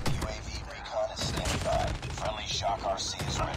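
Video game gunfire in rapid, punchy bursts of shots packed closely together, loud and continuous, with a player's voice talking over the shooting.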